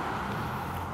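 Road traffic passes as a steady, moderately loud wash of tire and engine rumble, with no talk.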